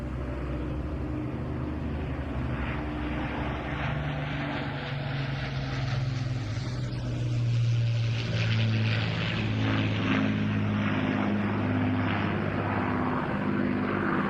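A propeller aircraft performs a flypast at an air show, its engine drone rising steadily and peaking in a close pass before receding under a continuous outdoor rumble.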